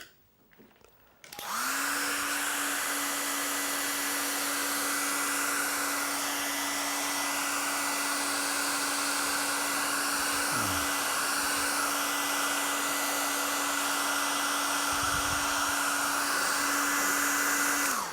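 A hair dryer switches on after a moment of quiet and runs with a steady, loud, close whir as it dries paint on black paper.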